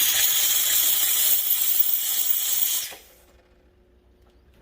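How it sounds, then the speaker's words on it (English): A loud, sharp hiss of steam blasting from the steam wand of a DeLonghi ECP3420 espresso machine for about three seconds, then cutting off abruptly into near silence. "Shoot out a little bit of steam. It cleans out the wine."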